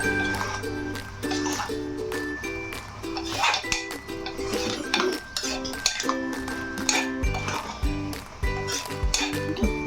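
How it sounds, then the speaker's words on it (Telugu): A spoon stirs Andhra-style bottle gourd curry in a metal pot, giving repeated scraping clinks against the pan that run steadily over background music. "వేసుకుని బాగా కలియబెట్టాలి మంచిగా కలుపుతూ పైకి కిందకి కలిసేటట్టు మంచిగా కలపాలి"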